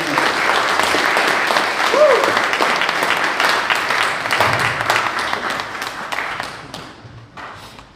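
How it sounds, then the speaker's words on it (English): An audience applauds singers at a Seong Hwa ceremony. The clapping is loud and sustained, with a brief vocal sound near the start, and it tapers off toward the end. "Please give them a round of applause."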